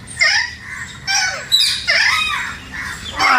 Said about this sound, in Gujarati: આ પોપટ છે.